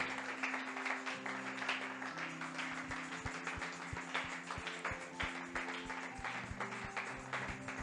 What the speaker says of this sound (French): Can somebody clap for the Lord?